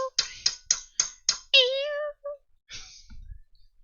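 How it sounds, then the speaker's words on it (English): A cat in a kitchen gives a rapid run of five short, sharp meows, then one long, drawn-out squealing meow, followed by a few softer calls and a rustle nearby. "That's all I hear from this cat."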